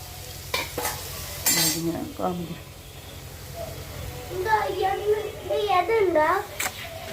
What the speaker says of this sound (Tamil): இந்த ஸ்டேஜில் நம்ம இடித்து வச்ச நண்டை சேர்த்து ஒரு வதக்கணும்.